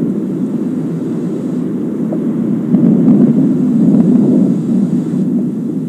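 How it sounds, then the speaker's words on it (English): SpaceX Falcon 9 first-stage engines firing during a crewed Dragon launch, heard as a continuous low roaring rumble that swells slightly midway, steady and loud without voices. "About 30 more seconds of the first stage firing to bring our four astronauts into orbit."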